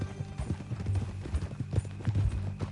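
Horse hooves clip-clop in a steady walking rhythm in the video game Red Dead Redemption 2, close and fairly loud, with faint background sounds beneath.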